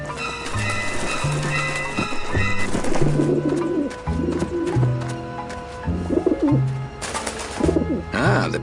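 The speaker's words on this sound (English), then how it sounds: "the pigeons obviously like this dish vent" Pigeons coo on a rooftop dish vent in the adventure game Grim Fandango, with repeated low cooing phrases in a loose rhythm over a background of game music.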